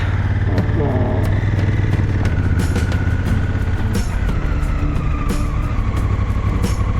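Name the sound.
cars on the road heard while riding a motorcycle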